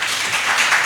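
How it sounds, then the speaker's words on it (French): Audience applause in a café gathering for a Malian storyteller and puppeteer, a steady wash of clapping hands lasting about a second without any talking. "On applaudit."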